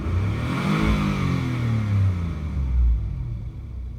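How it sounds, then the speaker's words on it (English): A Nissan Maxima A32 engine with a rough idle fault revs up loud and close, a steady rumbling rise that swells and dips over a few seconds before easing off, with no talking. "I'm gonna rev it up to 7 grand"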